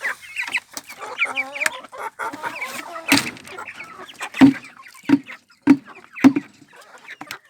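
Chickens clucking close by, a run of soft clucks and chatter followed by several sharper, evenly spaced calls; no talking.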